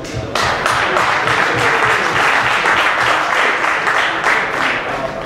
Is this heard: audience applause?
yes